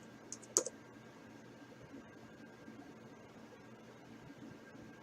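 A few faint clicks from a computer keyboard come in a quick cluster near the start, then give way to a quiet, steady hum.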